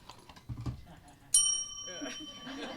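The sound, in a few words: call bell ringing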